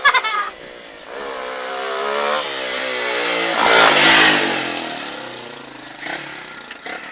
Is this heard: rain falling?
no